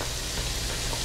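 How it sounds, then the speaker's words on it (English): Onions sweating in a pan as the base for clam chowder, giving a soft, steady sizzle and light frying crackle throughout, fairly quiet and with no voices. "Now we're going to sweat off the onions"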